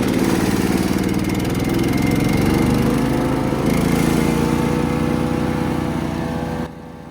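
A new Woodrex 150S petrol wood chipper runs close by with its choke off, a steady loud mower-like engine drone with constant throttle that drops abruptly to a quieter idle near the end.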